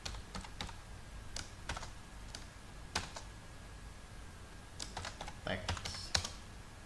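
Typing on a computer keyboard gives irregular clusters of light key clicks, close and moderately quiet, bunching into a faster burst near the end over a faint steady background.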